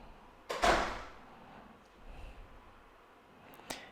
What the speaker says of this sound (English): Sorry if you can hear that door.